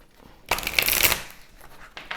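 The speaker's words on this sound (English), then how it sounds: "these are the cards that fall out of the deck as I'm shuffling" Tarot cards are shuffled close by in one brisk riffling burst lasting about half a second, then quieter handling and a short second flutter near the end.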